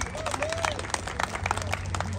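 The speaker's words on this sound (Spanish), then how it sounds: "Fuerte el aplauso para el gallito de Oaxaca." Crowd applause and scattered clapping rise and fall over a steady background hum, with voices mixed into the noisy crowd.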